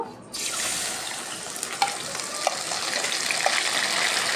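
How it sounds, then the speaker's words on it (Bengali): Milk-soaked semolina poured into hot sugar caramel for halwa, erupting into a sudden loud sizzle and bubbling hiss that continues steadily up close, with a few small clinks. "এখন আমি যেই সুজিটা আগে থেকে দুধের ভিতরে ভিজিয়ে রাখছিলাম ওটা দিয়ে দেব"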